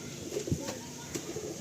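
Pigeons at a pigeon sale coo softly in short, low murmurs, with a brief louder coo near the middle over faint background noise.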